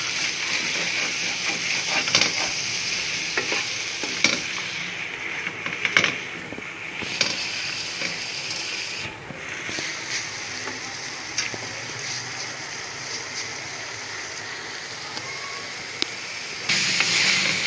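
Minced beef keema sizzles in a pan with red chili powder, a steady broadband hiss and crackle that runs continuously throughout, with a few faint clinks on top.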